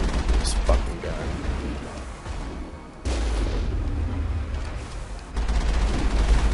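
A vehicle-mounted gun firing in Mass Effect, heavy booming bursts in a few sustained stretches, loud and rumbling, separated by brief quieter gaps, with a voice speaking over it.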